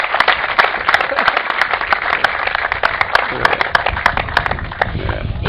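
A studio audience on a talk show applauds, dense, sustained clapping at moderate volume that continues steadily throughout with no pause.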